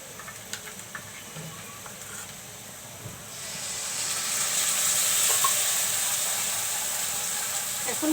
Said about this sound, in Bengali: এখন মশলাগুলো একটু কষিয়ে নিচ্ছি